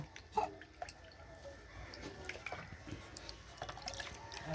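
Scattered water drips and small splashes fall indoors while a 34-day-old baby is bathed with warm water, quiet and close with a soft background hiss.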